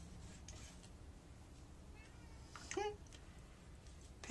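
A cat meows briefly once midway, with faint scratching at a window against steady low background noise indoors.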